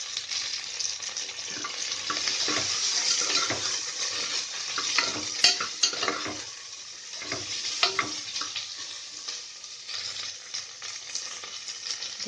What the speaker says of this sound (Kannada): ಹೆಚ್ಕೊಂಡಿರುವಂಥ ತರಕಾರಿಗಳು ಹಾಕಿ 1 ನಿಮಿಷ ಫ್ರೈ ಮಾಡ್ಕೊಳ್ಳಿ